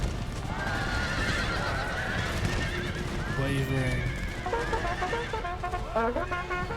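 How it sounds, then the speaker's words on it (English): Cavalry horses neigh and whinny amid a battle in Empire Total War, several overlapping calls over steady clatter and battlefield din while someone talks throughout. "Cavalry coming back for more."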